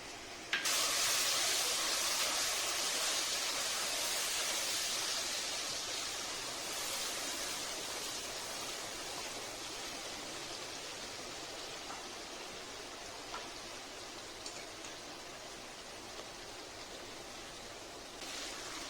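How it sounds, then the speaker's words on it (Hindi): Water poured into a cooking pan of frying masala gives a steady, broad hiss and sizzle that holds for the whole stretch and slowly eases off, with no voices. "थोड़ा सा पानी डाला है हमने।"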